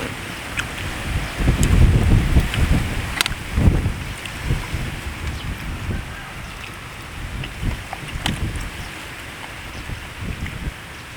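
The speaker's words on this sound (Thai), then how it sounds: "ลมพัด" Wind blowing outdoors during an outdoor fish-grilling meal, a steady broadband rush with stronger gusts buffeting the microphone, loud and continuous, with scattered clicks and no speech.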